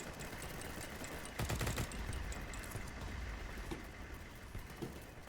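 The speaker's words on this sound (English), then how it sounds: "Who are we shooting at this close?" Gunfire in the online shooter BattleBit, rapid crackling bursts of shots over a noisy battlefield mix, moderately loud and continuous, with a denser flurry in the middle.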